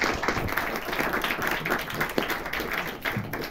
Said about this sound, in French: Vous pouvez les applaudir tous les deux